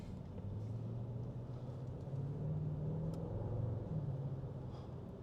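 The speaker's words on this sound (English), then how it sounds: "still you hear the burble of V8" A 2025 Audi S8 sedan's V8 engine burbles at low speed in comfort mode on tight streets, a steady deep rumble that swells slightly in the middle, with no voices.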